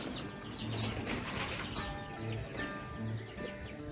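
Chickens kept in a shed on a terrace garden cluck softly at moderate distance, with faint rustling and flapping over steady background noise.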